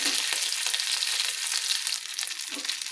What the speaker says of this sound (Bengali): দিয়ে আদাটাকে তেলে ভেজে নিচ্ছি